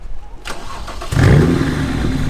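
A BMW 335i being modified on a budget build fires up: a short starter crank, then the engine catches with a burst and settles into a loud, rumbling idle close by.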